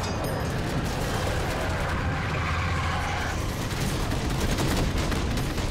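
Dense, continuous gunfire fills a Halo 4 battle, loud and close, with rapid overlapping shots and rumbling explosions under the clatter.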